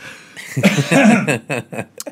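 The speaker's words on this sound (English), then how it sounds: "Pardon my rudeness there, coughing without closing the mic." A short, close cough into a radio studio microphone, followed by a few breathy, throaty bursts, loud and near the microphone.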